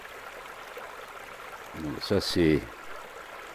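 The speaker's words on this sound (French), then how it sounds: "le ruisseau un peu plus haut" A small stream flows through winter woods with a steady, soft watery wash, while someone speaks briefly nearby over the constant trickle.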